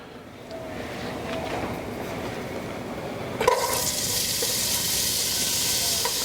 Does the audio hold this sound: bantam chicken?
no